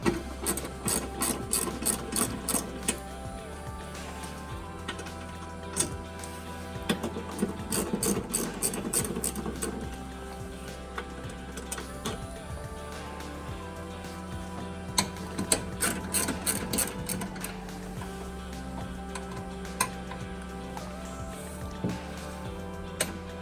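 Half-inch ratchet with a 10 mm socket and short extension removing wiper motor nuts: several separate bursts of rapid, fairly faint clicking with quieter handling noises between them.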